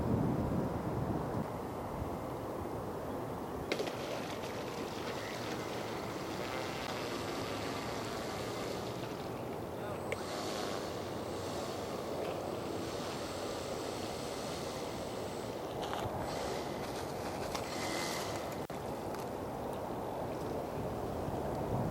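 A Flyzone DHC-2 Beaver RC airplane lands on water: steady broadband wind and engine drone, its small motor whining, splashing wash rising midway; constant and fairly loud, no talk.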